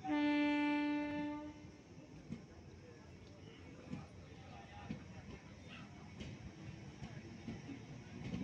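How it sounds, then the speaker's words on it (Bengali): A passenger train pulls out of Rainagar station toward Masagram, opening with a loud sustained horn blast for about a second and a half, then a steady rumble of wheels and carriages with scattered clanks, fairly close. "দেখতেই পাচ্ছেন ট্রেনটি মোশাগ্রামের দিকে রওনা দিয়ে দিয়েছে।"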